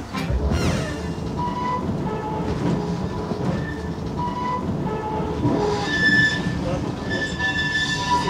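An old tram over 100 years old rolls along rails nearby in Sintra, Portugal, wheels rumbling and clacking, with metallic squeals and ringing tones rising over the steady run.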